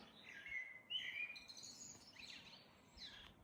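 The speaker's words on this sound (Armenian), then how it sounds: "ծիտիկների լավ են թրվռում" Small birds chirp and tweet in short, high bursts, moderately close, with a faint steady background hum and no talking.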